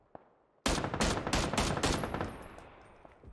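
A sharp burst of close gunfire in PUBG, five or six loud cracks in quick succession, then a ringing decay that fades away.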